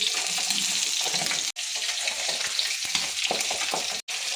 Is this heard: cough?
no